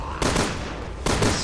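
Two sharp, loud gunshot bursts from Resident Evil Revelations 2 strike about a second apart, each a broadband crack with a short tail over a constant background of game ambience.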